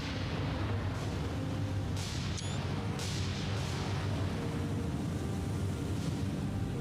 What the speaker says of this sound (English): The nice thing about the attack command is it triggers your secondaries to fire also.